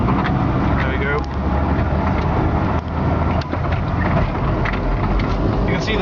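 A Suzuki 413 Samurai challenge truck drives along with a steady, loud engine drone and road rumble filling the cabin, bumpy and continuous from start to finish.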